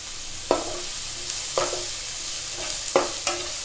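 Sliced onion and round-cut green chillies sautéing in a pan for beetroot paneer bhurji, a soft steady sizzle broken by four distinct spoon scrapes against the pan, close up with no voices.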